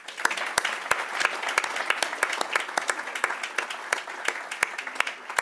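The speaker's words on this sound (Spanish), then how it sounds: "Y les pediría que se unieran un aplauso a mí para él" At a book presentation, an audience gives the editor a round of applause: dense, lively clapping with sharp individual claps popping out near the microphone, held at a steady level for about five seconds.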